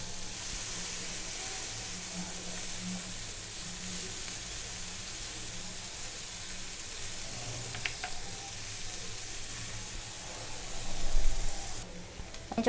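Finely chopped onions sizzling in melted butter in a pan, a steady, moderately loud frying hiss that holds throughout, with a few stirring clatters near the end.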